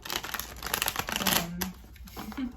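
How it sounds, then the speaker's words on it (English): Cards riffle and flutter in quick bursts as a thick deck is shuffled up close, with papery slaps and brief pauses between riffles. "It's a very thick deck, so it's challenging for me to shuffle."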